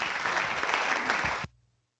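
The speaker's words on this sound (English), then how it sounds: "So let's give them another round of applause." Audience applause for speakers at a public policy dialogue event, a dense steady burst of clapping from a room full of people that stops abruptly after about a second and a half, leaving near silence.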